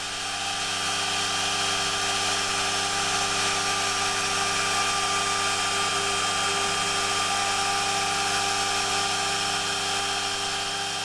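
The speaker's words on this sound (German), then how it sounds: "die fräst Thorsten jetzt aus. Dieses Mal vollautomatisch." Automatic milling machine cutting 3.9 mm thick buffalo horn eyeglass temples, a continuous high-pitched whine with steady tonal hum, loud and unbroken, no voices.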